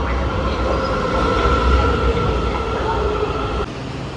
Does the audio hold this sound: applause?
no